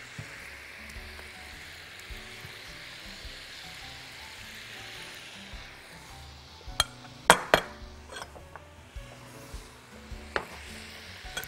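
Minced garlic and onion frying in a pan, a soft steady sizzle beneath a cluster of sharp metallic clinks and scrapes from a utensil stirring against the pan.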